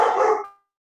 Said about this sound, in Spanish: Les pido una disculpa por los perritos, pero es que andan un poquito inquietos.